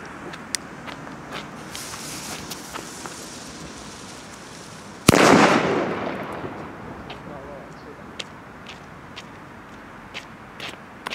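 A Roter Korsar Fire Event firecracker goes off with one sharp, loud bang about halfway through, followed by a brief crackling decay. Before it there is quieter background noise with scattered small clicks.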